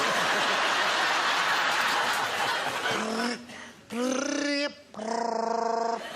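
A vibrator buzzing on a tin tray imitates a grey tree frog, giving three rattling trills with short pauses between them after a stretch of crowd laughter.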